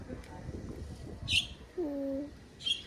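A small pet bird calls quietly just after bathing: a short, soft cooing note and a few faint chirps over a hushed indoor background.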